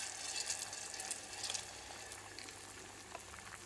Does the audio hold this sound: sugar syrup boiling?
yes